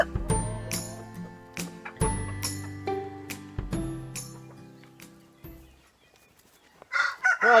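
Hens cluck in short bursts while a rooster crows a few times nearby in the Tamar Valley, with a tonal ringing underneath and a rustling, scraping noise at the end.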